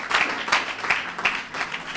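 A church congregation applauds in praise, a dense spread of clapping with irregular bursts that rises and falls, fairly loud and with no clear speech.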